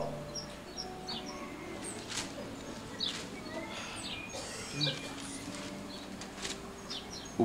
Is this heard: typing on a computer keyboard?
no